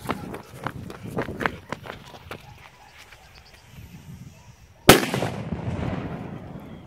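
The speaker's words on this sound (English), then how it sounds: "Today, I'm showing you a 5 gram homemade firecracker." After quiet rustling and footsteps, a 5-gram homemade ashcan firecracker goes off in one loud, sharp bang nearby, followed by a lingering noisy tail as it fades.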